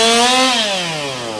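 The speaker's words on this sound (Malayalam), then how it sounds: "അഗ്നിരക്ഷാസേനയും പോലീസും എത്തിയാണ് ഇലക്ട്രിക് കട്ടർ ഉപയോഗിച്ച് വൃക്ഷത്തിന്റെ ശിഖരങ്ങൾ മുറിച്ചു മാറ്റിയത്" An electric cutter, run by fire and rescue crews with police, saws through the branches of a tree that broke and fell in heavy rain. A loud, continuous motor whine sinks slowly in pitch as the blade bogs down in the wood.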